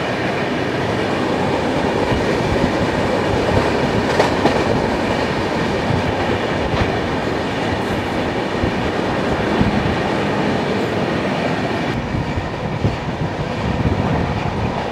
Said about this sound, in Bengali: এবার রেস হতে চলেছে মালগাড়ি আর দুরন্ত এক্সপ্রেস